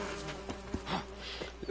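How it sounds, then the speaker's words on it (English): A bee buzzes close by in The Witcher 3 video game, a steady insect drone broken by a few short ticks and flutters. "I just got stung by the bee."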